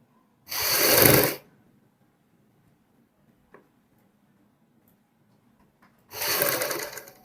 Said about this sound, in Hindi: इस साइड से सिलाई शुरू करते हुए इस प्रकार हमने हाफ इंच का मार्जिन लेते हुए